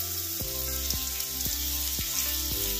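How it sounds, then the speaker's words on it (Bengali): Ginger, garlic and green chili paste fries in a pan for a pork curry, a steady broadband sizzle punctuated by regular stirring scrapes roughly every half second, close and continuous with no talk. "আদা, রসুন, কাঁচা লঙ্কার পেস্ট দিয়ে দেবো।"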